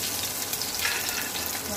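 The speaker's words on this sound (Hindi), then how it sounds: "फ्राई हो रहा है हमारा।" Potato chips frying in a pan of oil give a steady, dense sizzle, close and moderately quiet, continuous through the short stretch with no talking.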